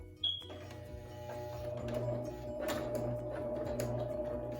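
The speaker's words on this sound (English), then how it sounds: "I'm just going to sew a V right here." A sewing machine stitches a V-neck collar with a steady, soft mechanical hum and faint rhythmic ticking, running continuously at close range.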